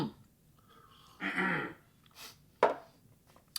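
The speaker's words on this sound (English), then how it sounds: "that was clearing my throat" A person close by clears their throat in two short, raspy bursts, the first longer and the second a quick sharp rasp, with quiet room noise between them.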